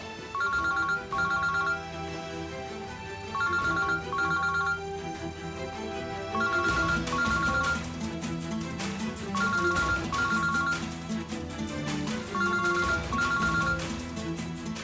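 A mobile phone plays a melodic ringtone in repeating bursts of bright electronic notes over a steady musical backing. It keeps ringing unanswered for about fifteen seconds, loud and close, with no talking.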